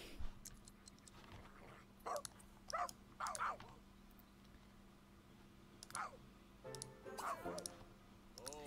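A dog in The Sims 3 gives a few short barks and yips, spread in brief bursts, with a steady low game hum beneath and no speech.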